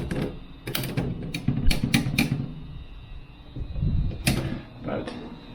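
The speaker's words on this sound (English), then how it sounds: "typing up his correspondence here on the hotel's vintage typewriter." A vintage typewriter in a hotel reception gives sharp, irregular key strikes in quick clusters, close by, while someone talks over the clacking.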